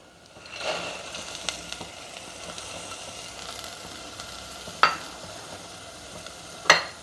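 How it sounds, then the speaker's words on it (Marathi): Cowpeas and potatoes tumble into a spiced masala in a pan and are stirred, giving a soft low sizzle with scraping strokes and two sharp metallic clicks from the spoon against the pan. "आणि आता ह्यामध्ये आपल्याला चवळी आणि बटाटा घालायचा आहे।"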